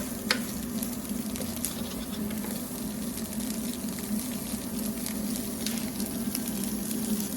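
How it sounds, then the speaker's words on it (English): Smoked paprika sizzles in hot oil in a pan, a steady close crackling fry with a low hum underneath and occasional light stirring taps, no voices. "Just needs a few minutes just so that the natural flavour in the oil can come out of the smoked paprika."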